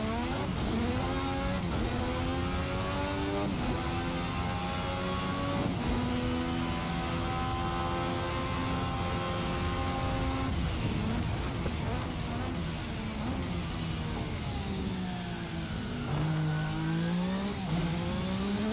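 A Formula 1986 V6 turbo race car in the Race Sim Studio simulator, its engine screaming loud and continuous at max boost, rising in pitch through the gears with brief dips at each shift.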